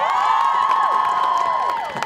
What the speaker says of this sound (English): Can we get a round of applause for ourselves?